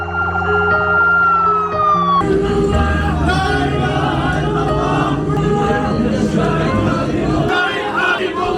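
An ambulance carrying bodies arrives at a hospital in Nablus, its siren wailing loud and close in sweeping tones, then shifting to a different pattern amid crowd noise and voices.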